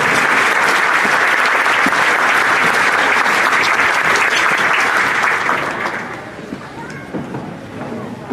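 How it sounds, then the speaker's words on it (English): Loud, sustained applause from a large audience at a nursing pinning and commencement ceremony, dense clapping filling the room for several seconds before thinning and tapering off near the end. "Let's give them a round of applause, please."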